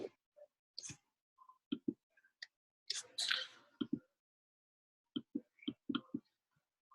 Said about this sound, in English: Sorry guys, I cannot see what I'm typing on here.